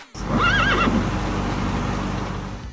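A horse lets out a loud, close whinny, its wavering call rising and falling for about a second, followed by a lower snort and a continuing rumble of movement.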